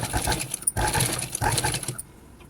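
A sewing machine runs in quick bursts stitching a blouse back neck with potli buttons, a loud close whirring rattle that stops briefly twice before cutting out.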